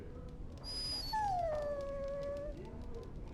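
A dog in Dragon Age: Origins lets out a single clear, drawn-out whimpering howl that rises sharply and then slides down before fading, with faint ambient game sound and no talking.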